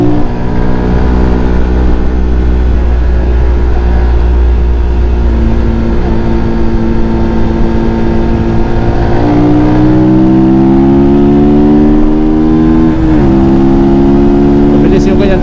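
A Rusi Flash 150X FI 150cc motorcycle engine on a test ride, loud and close, holding a steady drone before revving up through rising pitch sweeps and shifting gears.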